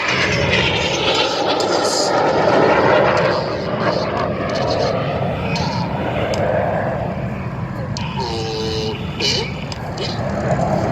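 A Red Arrows Hawk jet roars overhead at the Duxford air show, a loud sustained engine rumble with a commentator talking over it throughout.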